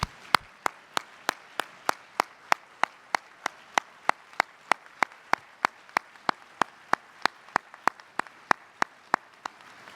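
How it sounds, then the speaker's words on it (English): An audience at an event honoring a board chairman claps in steady, even unison, sharp beats about three per second for ten seconds with no talk. "can you please get on your feet and clap for this man?"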